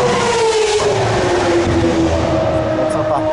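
A Formula 1 car engine drones loudly up close, its pitch sliding slowly downward and then holding in a continuous, heavy roar with a faint voice underneath.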